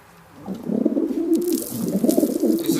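Pigeon or dove cooing, a run of soft, low, throaty coos repeated steadily and close, with a few faint higher chirps behind and no talking.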